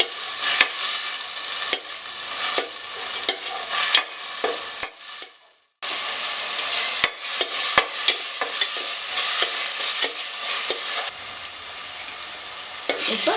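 Small garlic cloves are stirred and sautéed in hot oil in a pan for a mutton kola curry, a loud continuous sizzle with spatula scrapes and clinks, briefly dropping out midway before resuming; no talking.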